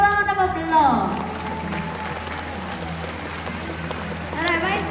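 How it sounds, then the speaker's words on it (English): A zoo show audience at Singapore Zoo applauds, a broad steady patter of many hands clapping at a distance, with a presenter's voice at the start and end. "How about we give them a big round of applause?"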